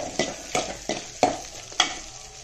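Onions and ginger garlic paste frying in a pan while being stirred, with five regular spatula scrapes against the pan over a steady close sizzle.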